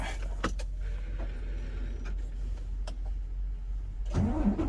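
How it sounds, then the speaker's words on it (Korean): A truck engine is cranked and catches near the end, a loud low rumble rising after a few seconds of idle cab hum and faint clicks. "시동 한번 켜보세요."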